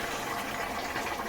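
Curry poured into a hot pan gives a brief, steady liquid gush and sizzle, moderately loud and close, with no talk over it.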